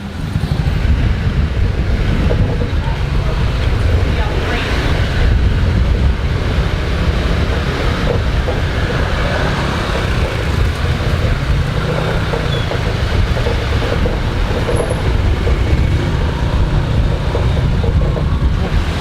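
Steady, continuous engine and road rumble with wind buffeting the microphone while riding a motorbike in Legian, Bali, at a constant speed for the whole stretch.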